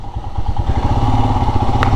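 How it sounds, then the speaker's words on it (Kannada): A Royal Enfield Himalayan BS6 motorcycle from 2021 in Granite Black is ridden, its single-cylinder engine thumping steadily and loudly up close, with a low pulsing exhaust beat and some clatter. "ಮತ್ತೆ ಬೈಕ್ ಸ್ಟಾರ್ಟ್ ಮಾಡಿಕೊಂಡು"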